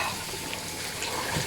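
Water running from a tap and overflowing a container in a piglet pen, a faint steady splashing hiss heard alone and close for a moment.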